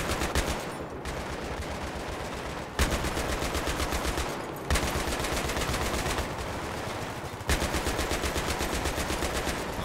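Sustained rapid rifle and machine gun fire from the shooter game Battlefield 3, dense continuous bursts broken by a few brief pauses, loud and close with no talk over it.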